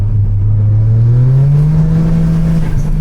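A tuned Toyota GR Corolla with an anti-lag system revving hard: a loud, close engine drone climbing steadily in pitch then holding high, with a faint crackle near the end.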